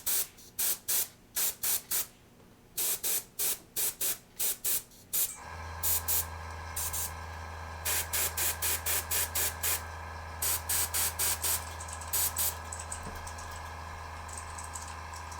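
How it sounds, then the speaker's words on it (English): Short bursts of aerosol spray paint hiss onto a tabletop miniature, first in quick separate puffs, then over a steady low hum in a rapid series of close, fairly loud sprays. "So I'm going to spray it just down here a little bit."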